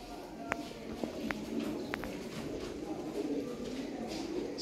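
Sialkoti pigeons, including red-speckled birds, coo softly at a quiet distance, with a few sharp taps and shuffles among them and a faint murmur in the background.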